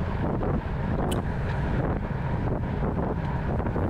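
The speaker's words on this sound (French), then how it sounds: "Tu peux voir qu'il y a quand même énormément de vent de face." Heavy wind roars steadily across the microphone during a road cycling race, a dense, unbroken rumble of strong headwind with no talking.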